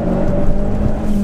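A Vauxhall Corsa VXR engine revs hard with a loud, steady mechanical drone and a whirring tone, briefly captured close up from inside the car.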